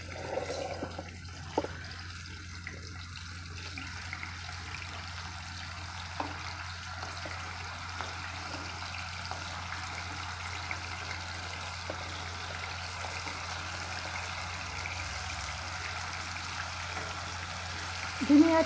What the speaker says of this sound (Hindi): जैसे गर्म हो गया है अब इसमें हम पनीर के टुकड़े डालेंगे,